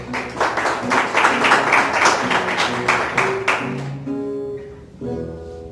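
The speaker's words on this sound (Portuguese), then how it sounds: "Que você possa aplaudir a palavra de Deus." A church congregation applauding during a sermon, a few seconds of rhythmic clapping that fades out while voices or music tones rise beneath it.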